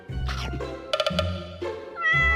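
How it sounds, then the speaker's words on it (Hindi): A cartoon cat meows loudly several times in a row, drawn-out cries with a quick stuttering burst in the middle, close and clear with no talking. "अरे बिल्ली, आ गई तू नजर लगाने?"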